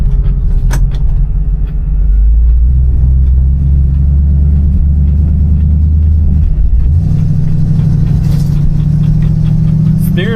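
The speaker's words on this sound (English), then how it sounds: "This 348 has a decent little grumble." A deep V8 engine rumble drones continuously from inside a moving 1960 Chevrolet Impala at about 20-25 mph, loud and steady, with the pitch shifting slightly partway through.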